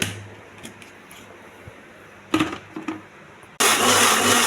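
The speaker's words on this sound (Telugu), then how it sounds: "మిక్సీ జార్లో వేసేయాలి" Soft clicks and knocks come as a mixie jar holding cooked tomato and coriander for chutney is handled, then the grinder switches on abruptly and runs with a loud, steady whirring roar.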